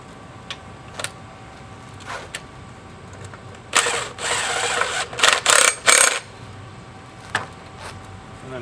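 A 6 mm bolt is driven into the clutch sheath of an Arctic Cat Wildcat wet clutch in a cluster of short, loud, whirring tool bursts, surrounded by scattered light metallic clicks and taps.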